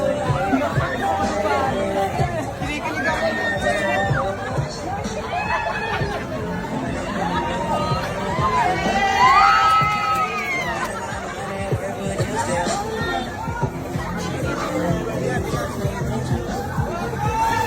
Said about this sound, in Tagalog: Grabe, sigawan talaga yung mga tao. Nakita si Diwata.